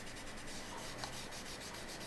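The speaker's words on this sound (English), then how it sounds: "Try to sand in the same direction all the time." Steady, even strokes of sandpaper rub across a 1/12 scale 1971 Porsche 917K model body, a soft continuous rasping repeated in quick regular passes, close and quiet.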